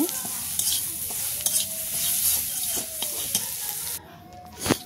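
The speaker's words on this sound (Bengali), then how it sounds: "সুন্দর করে আমি এখানে পেঁয়াজ কুচি রসুন কুচি দিয়ে দিচ্ছি" Chopped onion and garlic sizzle steadily in a hot pan, stirred now and then with scraping clicks, the frying hiss continuous and close before dropping away near the end.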